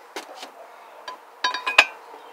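A nut being threaded onto the spindle of a Harbor Freight manual tire changer holding an old third-generation Camaro wheel; a series of sharp metallic clinks and taps, several close together near the end, at close range.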